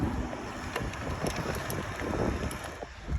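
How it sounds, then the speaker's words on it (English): Wind buffets the microphone outdoors in steady, loud gusts, a continuous rushing roar with a few faint clicks and knocks mixed in. "it's a bit windy"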